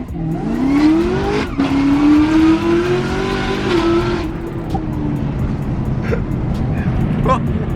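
Muscle car launching hard from a dig, the engine roaring and rising in pitch over a few seconds before easing off, loud and close with road noise, while people talk over it.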